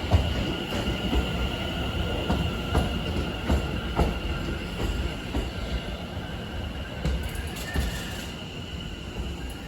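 A London Overground train pulls into a platform at Harrow and Wealdstone at night, rumbling and clattering steadily with rhythmic wheel clicks and a faint high squeal, close and continuous without speech.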